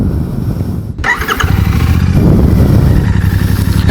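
A Royal Enfield Classic 650 motorcycle engine fires up after a brief lull and settles into a loud, close, steady exhaust thrum, deep and continuous with no talking.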